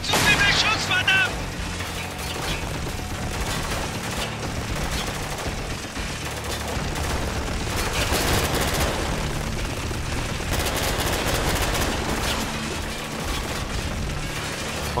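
Sustained gunfire and machine-gun bursts in the military shooter Spec Ops: The Line, with booms and explosions in a dense, loud battle mix that runs the whole time, and shouted voices mixed in.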